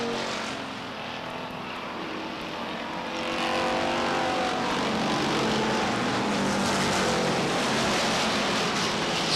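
Race cars running a qualifying heat at Beech Ridge Motor Speedway in 1991, a sustained loud engine roar that swells after a few seconds as the pack passes nearby, continuous with no voices.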